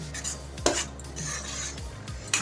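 A spoon scrapes and clinks against a pan while boti fry is stirred, with repeated metallic scraping strokes and a couple of sharper knocks, close and fairly loud.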